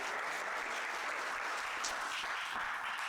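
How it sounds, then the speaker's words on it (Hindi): Enthusiastic applause from a seminar audience at a Bhagavad Gita gathering, a dense steady wash of many hands clapping, loud and unbroken throughout with no talk over it. "उत्साह भरी तालियां"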